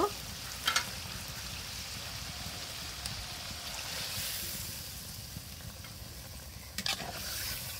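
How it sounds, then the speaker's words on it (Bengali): Fish frying in a pan as a little gravy goes in, a steady soft sizzle and bubbling with a few sharp clatters of utensil against the pan near the start and end. "এখন আমি সামান্য একটু ঝোল দিয়ে দেব"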